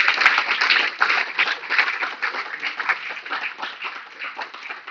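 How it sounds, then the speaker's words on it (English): A room full of people applauds together at a Rotary installation ceremony, dense steady clapping for the outgoing team that holds for about five seconds at a fairly loud level. "I think the previous team deserve a huge round of applause for the great work they have done"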